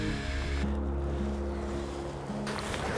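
The River Aire flows quickly near Snaith, a dense continuous rush of water with wind and wave-like surging, loud and close throughout, no voices.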